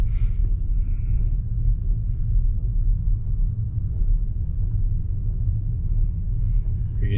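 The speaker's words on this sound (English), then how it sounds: "You can hear the rust on them rotors." Rusty brake rotors on a 2013 Chevrolet Malibu while driving, heard as a steady low grinding rumble from the moving car with faint scraping above it, continuous and fairly loud throughout.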